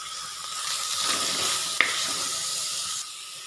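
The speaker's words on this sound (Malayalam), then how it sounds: "ഇനി വഴറ്റിയെടുക്കാം." Onions sautéing in a pan for Kerala-style okra and tomato curry, a steady close sizzle and hiss with a faint stirring scrape, cutting off abruptly near the end.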